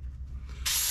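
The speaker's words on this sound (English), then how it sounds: "So I just spray that a little bit." An airbrush spraying paint onto a paper card model of an Me-410 aircraft in a garage: a low hum, then a sudden steady loud hiss of spray that runs to the end.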